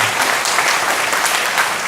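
An audience at a Brahma Kumaris spiritual class claps together in a brief, steady burst of many hands, close and fairly loud, with no voices over it.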